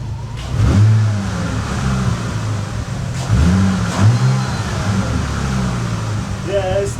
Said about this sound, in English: it's still coming down from the revs pretty slow